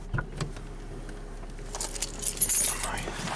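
Car keys jangle beside an old, rattly car with its engine running, a few brief metallic clinks and a brighter jingle toward the end over a low idle hum.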